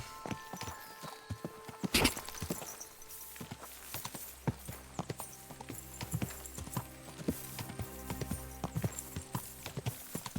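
Horse hooves clop steadily along an unsuitable off-road path in Kingdom Come Deliverance 2, with crisp, close, rhythmic hoofbeats and a few louder knocks over quiet ambient background.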